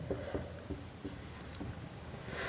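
A pen or pencil writes out a definition in a lesson on prime and composite numbers, giving faint, quiet scratching strokes in short irregular bursts against a soft background hiss.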